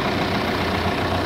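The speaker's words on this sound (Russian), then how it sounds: "у нас двигатель завелся с одним аккумулятором, с маленьким" A Mitsubishi L200 pickup's engine idles steadily after a hard winter start. It gives a loud, even, close-up diesel-like rumble with no talk over it.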